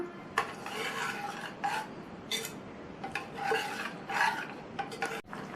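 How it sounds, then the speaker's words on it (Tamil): A spoon stirring strained white slurry into semiya payasam in a pot: soft, continuous scraping and swishing with a few sharper clinks against the vessel, close and fairly quiet, with no talk. "அடுத்து இதில் வடிகட்டி வச்ச வெள்ளைக்கரைசலை சேர்த்து நல்லா கலந்து விட்டுறலாம்."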